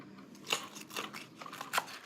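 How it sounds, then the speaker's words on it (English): Kitchen scissors snip through raw chicken breast, making several crisp cutting clicks spaced unevenly, close and fairly quiet with no talking. "you can use the scissors to cut through, and you open it up"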